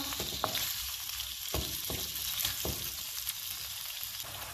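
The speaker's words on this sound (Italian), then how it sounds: "Mettiamo in padella i calamari. fiamma alta" Squid fries in oil in a pan over high heat, a steady, loud, close sizzle with occasional crackles and pops running unbroken throughout.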